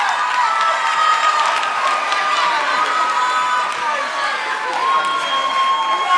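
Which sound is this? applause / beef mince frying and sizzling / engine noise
applause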